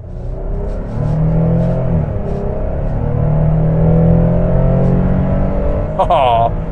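A 2023 Nissan Frontier pickup's engine accelerates with a loud, close, rising drone that climbs in pitch over several seconds as the truck pulls hard.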